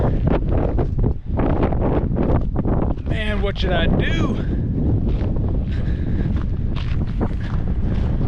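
Strong mountain wind buffets the microphone in constant roaring gusts while someone speaks briefly over it.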